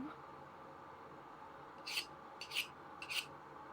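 Three short, bright rasping scrapes of a hardened steel chisel skating across a file, spaced about half a second apart over a quiet background hum.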